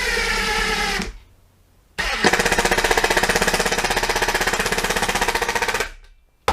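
A 12V brushless compact impact driver drives a 4x30 screw, a loud run-up followed by a long, rapid, steady hammering rattle of impacts that stops abruptly, close to the microphone.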